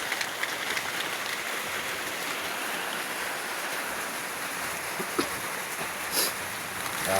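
Steady rain falling on a surface, a dense continuous hiss with occasional heavier drips, close and fairly loud, with no voices.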